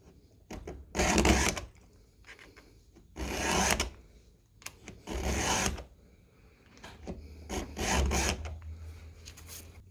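A round hand file sharpens chainsaw teeth in rhythmic rasping strokes, about five distinct bursts of gritty scraping separated by short pauses, close and fairly loud.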